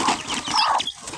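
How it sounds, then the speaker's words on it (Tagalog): Jungle fowl chicks peeping in a cluster, a continuous stream of thin, high cheeps close by with no talk over them. "Ito yung sisiw nila"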